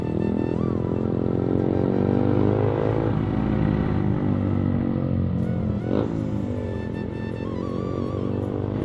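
A modified Yamaha MT-15 BS6 motorcycle exhaust rumbles loud and close on a damp road, holding a steady throaty idle-to-cruise drone with a couple of brief revs and gear changes midway.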